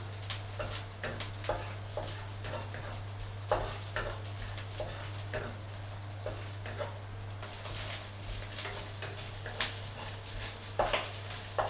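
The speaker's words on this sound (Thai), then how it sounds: "คั่วกุ้งกุ้งแห้งก่อนนะคะ" Dried shrimp dry-roasted in a wok, with soft scraping stirs and light ticking and pattering of the shrimp against the pan, steady and quiet over a constant low hum.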